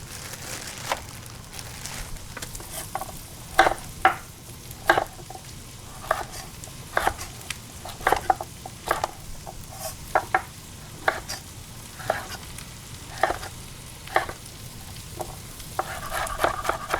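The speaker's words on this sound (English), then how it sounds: "turn the heat up. Dump some of these mushrooms in here." Mushrooms and carrots frying in a pan for kitchen cleanout fried rice, with a low sizzle beneath regular scraping stirs of a spatula, each stroke a short, fairly close knock or scrape.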